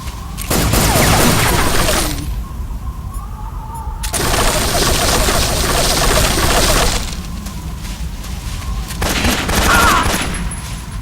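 Long, loud bursts of light machine gun fire from Metal Gear Solid 3: Snake Eater rattle in three sustained volleys separated by brief lulls, with game music and effects in the gaps.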